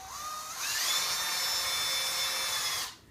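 A handheld power drill spins up gradually as its trigger is eased in, rising to a steady high whine for about two seconds while the chuck claws tighten, then stopping abruptly.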